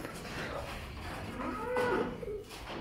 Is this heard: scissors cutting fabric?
no